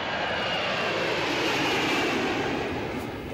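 Il-76 military transport aircraft engines at an airfield during bombing exercises, a loud, continuous roar with a broad whine that swells slightly midway and holds steady.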